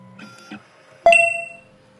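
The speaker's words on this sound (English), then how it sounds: "The machine is decoding the lateral side." A 2M2 Tank II Pro CNC key cutting machine decodes the lateral side of a Citroen SX9 key: faint mechanical clicks and tones, then one sharp struck ring with a sustained bright tone that fades over about a second.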